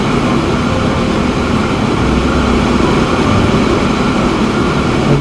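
A train rolling past in the video game Transport Fever 2, a loud, dense rumble that holds steady without a break for the whole stretch, with no talking.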